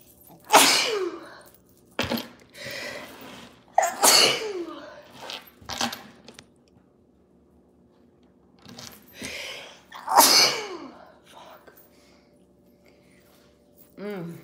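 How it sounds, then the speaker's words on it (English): Three loud, close sneezes burst out at spaced intervals, each a sharp explosive blast, with a person murmuring briefly in between. "I'm gonna sneeze again."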